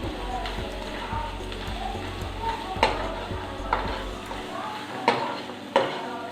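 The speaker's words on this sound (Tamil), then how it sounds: "இப்போ இதை வந்து சிம்மில் வச்சு கொஞ்சம் வதக்கணும்." A ground spice paste for Mysore pepper rasam sautés in a pan with a low sizzle and repeated clacks of a spoon against the pan, fairly close, with a voice speaking over it.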